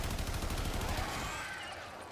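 Rapid automatic AK-47 fire in the sci-fi shooter Warframe, a dense, loud burst of shots for most of the moment that thins out toward the end.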